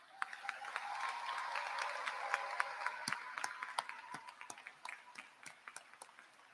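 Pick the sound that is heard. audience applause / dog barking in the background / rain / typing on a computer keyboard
audience applause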